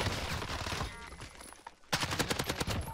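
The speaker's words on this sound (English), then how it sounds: "Taking fire over here." Rapid bursts of gunfire in the Call of Duty Warzone (Cold War) video game, dense automatic shots rattling throughout, quieting briefly before a sharper, louder volley of close shots near the end.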